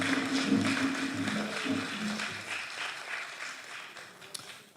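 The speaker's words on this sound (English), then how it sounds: "Shall we do another big round of applause for him?" A round of applause at a football association esports awards event greets a confederation vice president, a steady wash of clapping that gradually fades, with a voice murmuring low beneath it.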